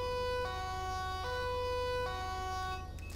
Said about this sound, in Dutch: Wat ik wel nog even ga laten horen is de sirene die al gaat aangepast.